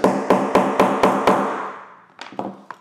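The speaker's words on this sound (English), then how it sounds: "And then you just take the hammer and knock it down." A hammer knocking down a metal fastener while sewing a bag, six quick, evenly spaced ringing strikes followed by a few lighter, softer taps, close and loud with no voices.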